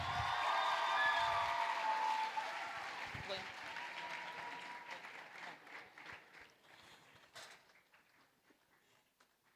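Applause from an audience cheering on contestants for the Mr. and Miss St. George's pageant at St. George's College, loud at first and gradually thinning out, with a voice speaking over it.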